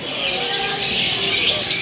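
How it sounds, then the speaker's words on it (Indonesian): A parrot calls at a busy bird market in Solo, Central Java, its chirps and tweets rising over a dense, steady wash of other birdsong for just under two seconds. "Burung beo."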